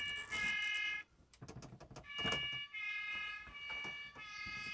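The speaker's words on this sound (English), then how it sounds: "There's a fire siren." Fire siren setting on a Bruder toy fire truck: a faint, tinny electronic siren tone that pauses briefly and resumes between a few handling clicks, with no speech.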